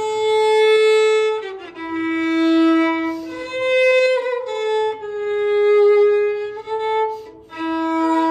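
A solo modern-made violin played with a baroque bow plays a slow, sustained melody with smooth bowed notes and gentle swells, warm and close, with no voices.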